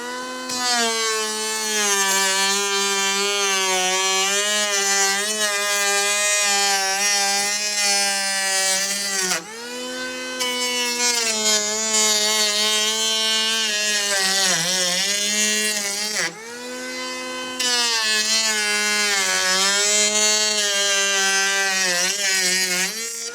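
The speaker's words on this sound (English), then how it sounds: "So right now the planer's probably taking about 1/16 of an inch" An electric hand planer shaves deck boards in loud, sustained high whines, cutting in three long passes separated by brief dips as the tool is pulled back, with no talk.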